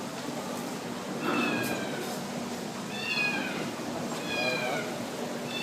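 A stranded cat gives several short, high meows at intervals over steady background noise, fairly close and clear.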